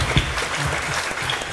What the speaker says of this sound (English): Please give your round of applause to Professor Lee.